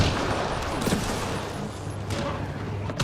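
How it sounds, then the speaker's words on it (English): Sustained gunfire in the video game Mass Effect Andromeda, a dense continuous rattle of shots and blasts with no clear gaps throughout, loud and busy. "Who's he shooting at?"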